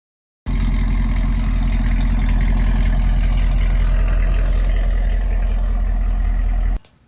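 A 6th-gen Camaro SS V8 with 1 7/8-inch Texas Speed headers and no catalytic converters idles close by, a loud, deep, steady rumble with a lumpy pulse that starts suddenly and cuts off near the end, with no talking.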